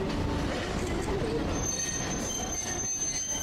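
A train rolls over tracks through a switch near Jujo's Ginza shopping street in Tokyo, its wheels squealing steadily with a continuous metallic rumble for several seconds, close and loud.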